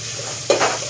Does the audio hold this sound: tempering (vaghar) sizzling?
yes